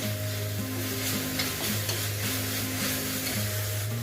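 Masala spice paste sizzling in a pan while being stirred, a steady close frying crackle with scraping stirring strokes and a faint background hum, no talking.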